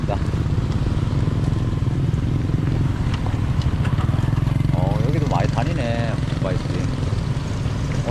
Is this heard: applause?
no